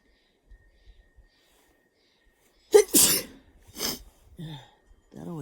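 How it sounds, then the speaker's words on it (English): After a quiet stretch outdoors with wind in the trees, a single loud sneeze bursts out close by, followed by a couple of softer breaths and a short vocal sound. "I'm gonna sneeze."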